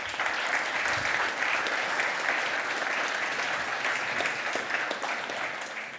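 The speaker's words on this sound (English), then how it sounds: "Another round of applause to our first panelists." A sustained round of audience applause at a sustainable mobility panel discussion, steady dense clapping throughout that tapers slightly at the end.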